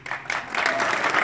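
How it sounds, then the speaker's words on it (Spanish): Theater audience bursts into loud, sustained applause after a stage performance, dense clapping swelling quickly and holding steady throughout. "Pero también a Consuelo Duval, el tiempo que estuvo, su aplauso."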